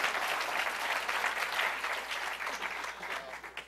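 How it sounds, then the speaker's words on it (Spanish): A live science-show audience claps steadily for a few seconds, a dense and even round of applause heard from within the crowd and moderately loud, with no talking over it. "un aplauso para el DAC"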